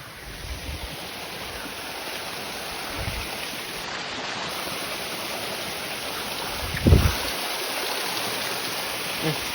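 Water rushing along a village stream swollen by monsoon rain, a steady broadband gurgling flow close by with a couple of brief low thumps, and no talk over it.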